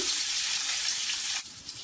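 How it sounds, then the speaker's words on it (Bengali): Whole slit green chilies frying in hot oil, giving a steady close sizzle that drops off sharply near the end as the heat or pan is disturbed. "কাঁচামরিচ ভাজা হয়ে গিয়েছে, উঠিয়ে নেব।"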